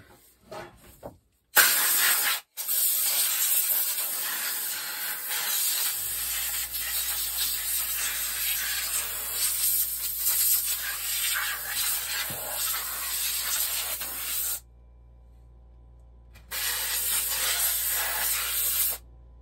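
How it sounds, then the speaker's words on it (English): Compressed-air blowgun blasting down the parts of a saw before disassembly, a loud steady broadband hiss running almost continuously with a couple of brief cutoffs, while a compressor hums low underneath. "Sorry about all the noise, air compressor a little bit."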